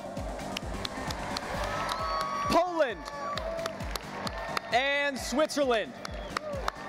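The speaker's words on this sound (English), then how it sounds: "please give a big round of applause to American Samoa" Audience applause and cheering greet arriving country delegations at a science fair opening ceremony, with crowd noise and a loud announcer over it, plus swelling tonal music-like sweeps.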